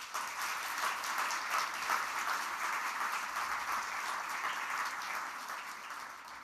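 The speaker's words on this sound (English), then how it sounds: "Please join me in a warm round of applause for these exceptional musicians." An audience applauds musicians at a forum event, the clapping steady and sustained at moderate distance with no talk over it, tapering slightly at the end.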